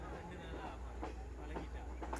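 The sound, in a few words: train running, Badulla train ride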